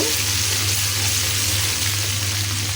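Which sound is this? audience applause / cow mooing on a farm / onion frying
onion frying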